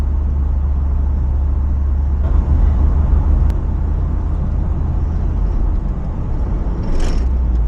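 A Chevrolet Camaro Z28 with a six-speed manual gearbox runs with a loud, steady low engine drone, heard from inside the car as it goes through the gears.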